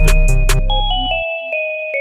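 A synthesized bell line from a Tone2 ElectraX soft synth, chiming in a short melodic run of bright, ringing tones, with the first notes over a dense low bed before sustained bell notes decay alone.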